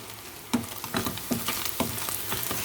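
Chicken seasoned with spices, salt and black pepper sizzles in a pan while being stirred, a close, moderate frying hiss broken by several soft scraping and tossing bursts, with no voices.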